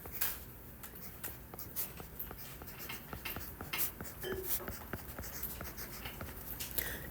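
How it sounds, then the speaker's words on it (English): Quiet scratching of pen strokes as someone writes SOHCAHTOA by hand, a soft, steady run of short scrapes with no talking. "I'm just gonna write my SOHCAHTOA"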